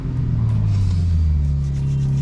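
A BMW M3 six-cylinder engine turns over and settles into a loud, deep, steady idle rumble up close.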